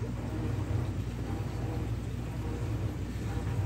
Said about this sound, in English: Sorry for the noise in the background. It's the washing machine.